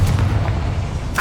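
A Confringo fire spell blasts in Hogwarts Legacy, a single loud, close burst with a deep booming body that holds steady before a brief sharper crack at the end.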